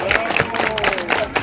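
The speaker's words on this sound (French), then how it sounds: "je voudrais que vous applaudissiez tout le comité d'organisation" Audience at a corporate team-building event applauding the organising committee, a short burst of dense, close clapping and crowd noise with voices mixed in.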